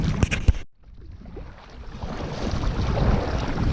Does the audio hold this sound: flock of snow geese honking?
no